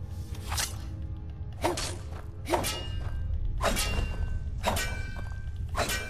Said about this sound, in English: If we use the pick, we arm it, and then we attack the ore.